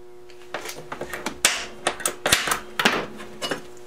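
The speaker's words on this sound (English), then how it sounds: "Let's get a center punch mark on here." A center punch is tapped into the metal of a saddle bag mount for a Yamaha 250, giving a quick string of about a dozen sharp, close metallic taps in an irregular rhythm.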